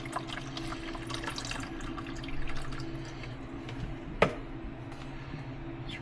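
Hot water goes into a plugged-in yogurt maker, heard as quiet trickling and dripping with small splashy clicks over a low electrical hum, and one sharp knock near the end.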